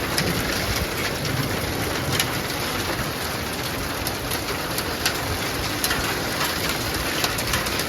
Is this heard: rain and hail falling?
yes